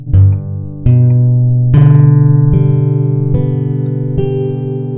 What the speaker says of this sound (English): strum your chord when you have it, and then go ahead and play each note individually